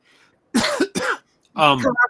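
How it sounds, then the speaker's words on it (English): Two quick, harsh coughs sound close to the microphone, followed by a rougher, voiced throat-clearing cough. "Cough"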